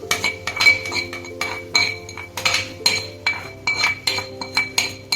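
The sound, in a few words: pouring tempering into vegetable sagu curry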